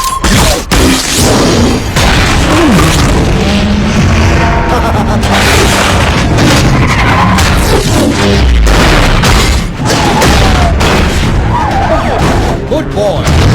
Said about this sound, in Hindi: कॉगमैन, उड़ा दो।